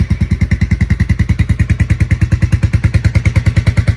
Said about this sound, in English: Finally, I want you to hear what this engine sounds like.